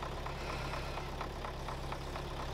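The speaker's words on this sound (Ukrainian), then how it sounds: "це трактор завівся." Tractor engine in Farming Simulator 22 running at a steady idle just after starting, a continuous low rumble with faint rhythmic knocking throughout.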